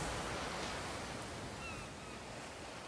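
Ocean waves wash in a soft, continuous hiss of surf, faint and distant, with no distinct breaks and no speech.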